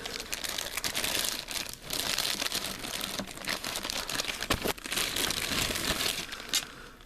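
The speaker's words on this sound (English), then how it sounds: "Tear the plastic." Plastic packaging torn by hand from a Papo Baryonyx dinosaur toy figure, a loud, close, continuous crinkling and ripping for several seconds, with a few sharper snaps.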